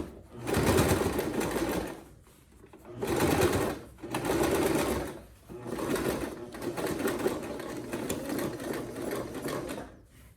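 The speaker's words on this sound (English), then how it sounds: "I'm gonna sew all the way through" Sewing machine stitching through the waistband of a tailored men's trouser during an alteration; loud mechanical whirring runs in bursts separated by brief pauses, then continues steadily, close up and with no speech.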